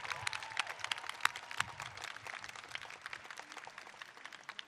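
An audience at the swearing-in of Maryland's governor applauds after the national anthem, a sustained patter of many hands clapping at some distance, fairly quiet and steady without any talk over it.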